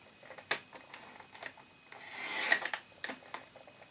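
A paper trimmer slices through two stacked sheets of 12x12 cardstock, giving a few short, close rasping strokes with a longer scraping pass in the middle, heard alone without talk.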